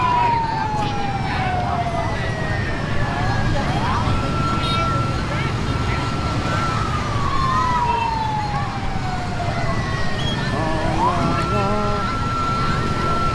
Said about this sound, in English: Could be an ambulance.